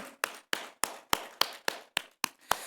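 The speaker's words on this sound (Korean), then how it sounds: "하나님께 영광의 박수 올려드리겠습니다" A church congregation at a Friday night prayer service claps in a steady, evenly spaced rhythm, about nine sharp unison claps, with no talking over them.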